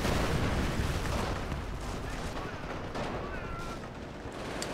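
Gunfire hitting a base in the WWII strategy game Company of Heroes. Dense, continuous bursts of distant gunfire and artillery rumble form a loud, steady wash that fades slightly toward the end.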